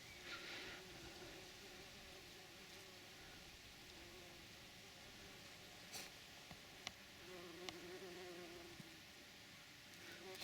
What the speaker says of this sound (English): here you can see a couple of bees whizzing about.